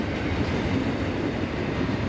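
A CSX intermodal freight train rolls steadily past at close range, a loud, continuous rumble of wheels and cars with no voices, filling the scene from start to finish.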